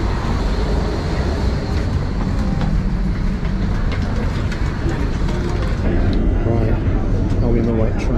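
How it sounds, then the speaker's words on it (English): Rail wheels clatter and a Helsinki tram rumbles steadily and loudly past throughout, with rhythmic clicks on the track and voices faintly underneath. "there's a tram coming"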